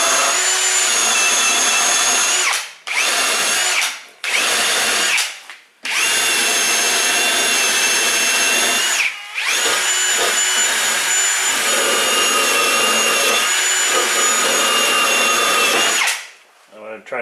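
A wire brush spun by a power drill scours a Mazda 3 caliper bracket held in a vise, a loud, steady grinding whine in several long bursts separated by short pauses.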